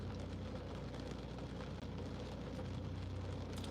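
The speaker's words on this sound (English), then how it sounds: "The rain sounds so beautiful." Steady rain falls in an even, dense hiss that stays at a constant level throughout, with no voices or other distinct sounds.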